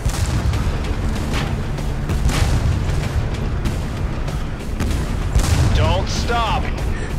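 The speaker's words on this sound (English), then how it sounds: "Oh, I'm getting shot at. Who's shooting at me?" Repeated heavy booming gunfire hits on the player's tank in the video game Tank Force, a dense rumbling barrage of impacts, with a voice talking over part of it.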